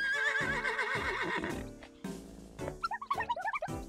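A horse whinnies loudly in a long, wavering neigh in the video game Miitopia, followed by a few snorts and short clipped bursts, with no talking.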